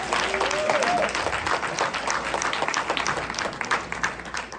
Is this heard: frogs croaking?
no